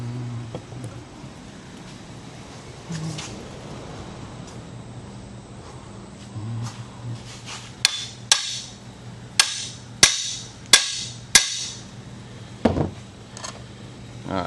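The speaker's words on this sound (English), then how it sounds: "let me get a hammer" A hammer strikes a welded metal garden gate, with about eight sharp, ringing blows in a loose rhythm after a stretch of quiet shuffling and handling noise.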